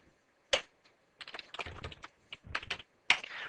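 Commands being typed on a computer keyboard while configuring a Cisco Catalyst switch: irregular clusters of close, crisp key clicks with brief pauses between bursts and a louder keystroke at the start and end.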